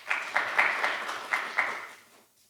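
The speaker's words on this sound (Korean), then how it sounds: "큰 박수로 환영해 주시면 감사하겠습니다." Conference audience at a Korean 5G and C-ITS talk gives brief applause to welcome a speaker, a short patter of claps that fades out within a couple of seconds.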